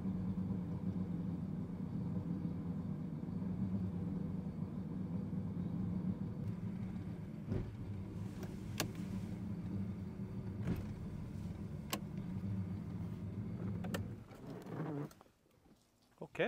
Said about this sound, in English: It sounds like a two-stroke.